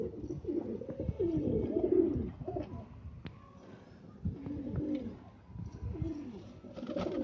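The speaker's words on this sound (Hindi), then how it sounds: "उसके कबूतर दिखा रहा हूँ" Soft, throaty pigeon coos repeat in low murmuring phrases, fairly close, with a few faint clicks and rustles between them.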